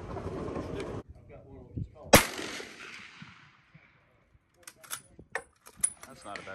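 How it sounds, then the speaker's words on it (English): Rifle shots fired at an outdoor shooting range in Talladega, a sharp loud crack followed by several fainter scattered shots and clicks, with people talking at the start. "but Dan will be shooting"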